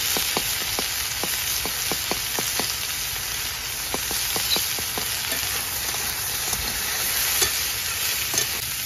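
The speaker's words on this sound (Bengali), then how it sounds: "এবার আদা রসুনটা মাঝখানে একটু তেলে ভেজে নেব" Ginger and garlic fry in a little oil in the middle of a pan of fried potatoes, a steady soft sizzle broken by a string of sharp spoon taps and stirring clicks, with no voices.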